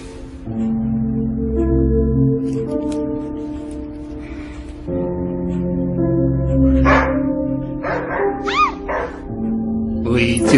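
A dog barks and yips in short bursts, at moderate volume, over a steady tonal background.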